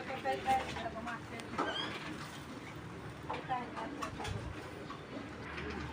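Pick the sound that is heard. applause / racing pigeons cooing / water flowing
racing pigeons cooing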